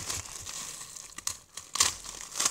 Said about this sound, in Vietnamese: Trời ơi, đây là băng keo.